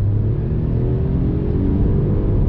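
A 2021 MINI Cooper SE Countryman All4 plug-in hybrid pulls away under throttle, a steady close low rumble and whir of drivetrain and road noise that holds even without any talk.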